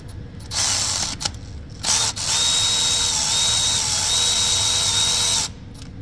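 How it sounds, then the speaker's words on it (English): A Milwaukee cordless ratchet works on a fastener in a Honda Fit, giving loud close whirring bursts, one brief and one sustained for about three seconds, with clicks between them. "I just happen to have the cordless Milwaukee right there."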